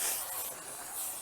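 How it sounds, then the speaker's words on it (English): An aerosol spray can lit with a lighter as a makeshift flamethrower gives a steady, close, airy hiss that lasts the whole moment with no talking. "Using a spray can and the lighter, Walker makes a makeshift flamethrower"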